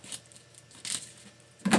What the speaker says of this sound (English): And take off the plastic.